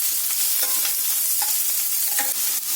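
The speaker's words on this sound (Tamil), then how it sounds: "எண்ணெய் சூடானதும் வெங்காயத்தை போட்டுக்கோங்க." Onions frying in hot oil in a pan for a Tamil fried fish curry, giving a steady close sizzle with a few soft stirring scrapes and no talk.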